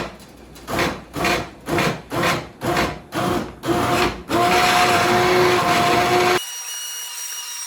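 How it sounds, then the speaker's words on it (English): A stick blender blending salsa pulses in about seven short bursts, then runs continuously for a couple of seconds before cutting off to quiet. "I want to carefully use my stick blender to smooth it out."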